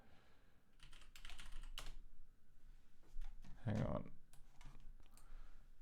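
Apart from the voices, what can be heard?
typing on a computer keyboard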